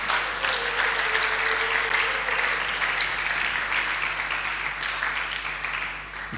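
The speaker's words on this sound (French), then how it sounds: "Acclame encore pour le Seigneur." A church congregation applauding during a worship service, sustained dense clapping from many hands filling the room, tapering slightly toward the end.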